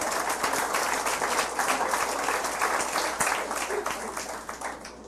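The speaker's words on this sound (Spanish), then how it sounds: "Le damos un aplauso al Señor." Congregation applauding during a church sermon, a lively burst of many hands clapping in uneven rhythm, fairly close and full, easing off slightly at the end.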